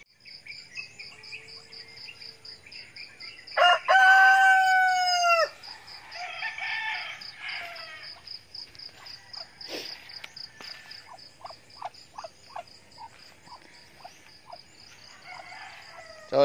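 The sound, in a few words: broiler chickens and roosters crowing on a farm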